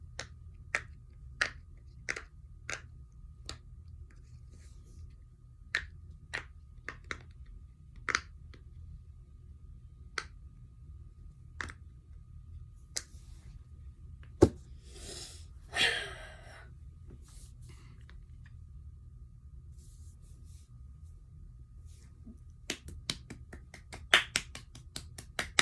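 A rainbow pop-it fidget toy being pressed, giving a string of sharp, close little pops in an uneven rhythm that speeds into a dense flurry near the end, with no talking.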